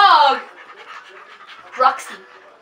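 Close, loud bursts of a dog panting, a rapid huffing run at the start and another short burst later, with quieter breathy sounds between.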